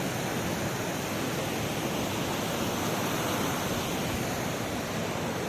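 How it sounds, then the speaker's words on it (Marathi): Rushing water from a river in flood with a small stream flowing in, a steady, dense broadband roar that stays loud and unbroken throughout, with no voices. "मागून एक छोटासा ओढा येतोय"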